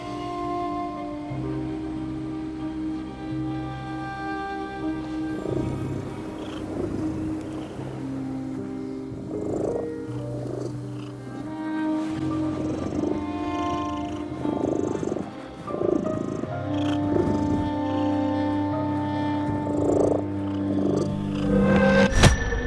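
Steady purring from a cat in the horror game The Midnight Walk, a continuous rumbling loop lasting throughout, mixed with soft ambient game music and no talk.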